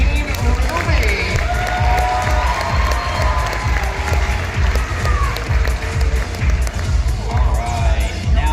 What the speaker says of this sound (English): give a round of applause for Team Ruby